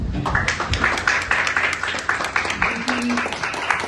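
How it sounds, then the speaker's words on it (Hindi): Audience standing to clap for the Indian army at an educators' meeting, an uneven spatter of close handclaps in a room, with some voices mixed in. "खड़े होकर भारतीय सेना के लिए ताली बजाएं"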